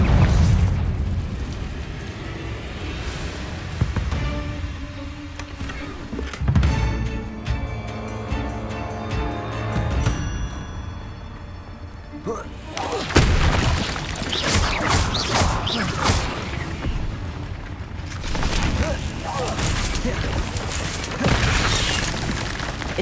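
Repeated fiery blasts from Confringo spells in the video game Hogwarts Legacy, loud booming bursts layered over a continuous game soundtrack, with a dense roaring stretch of explosions in the second half.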